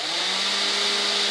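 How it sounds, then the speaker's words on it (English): A power screwdriver drives a couple of screws into the fuselage of a scratch-built F-105 Thunderchief RC jet model, giving one steady, loud, high-pitched motor whine that runs for the whole short burst. "We'll put a couple screws in it for now."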